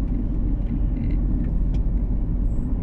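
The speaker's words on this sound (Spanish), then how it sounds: "Aquí se me atravesó un carro ya." A car passing on a street in the early morning, a steady low engine rumble and road noise that stays fairly loud throughout, with traffic noise behind it.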